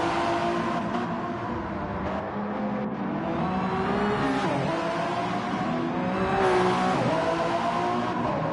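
Race cars in the Gran Turismo 7 video game during a Le Mans 24h pre-qualifying race, their engines droning and rising in pitch as they accelerate and shift, steady and continuous with whirring tire noise.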